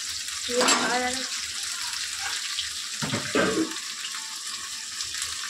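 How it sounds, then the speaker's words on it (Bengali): Fish frying in a home kitchen pan, spluttering and popping hard in hot oil, a constant bright sizzle broken by a few louder crackling bursts, with no talk. "আর এদিকে আমার মাছ খুব ফাটছে"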